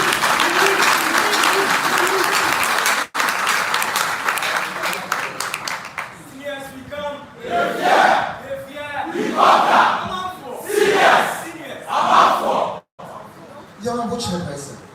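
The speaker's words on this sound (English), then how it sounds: "Once again, a round of applause" An audience at a school debate contest claps and cheers loudly. Dense applause comes first, then breaks into rising bursts of shouting and cheering from the crowd, with a brief drop partway through.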